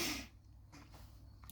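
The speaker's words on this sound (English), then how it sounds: "for some reason I'm sniffling like a madman" Faint sniffling, a few short nasal sniffs spread across a quiet moment with no talking.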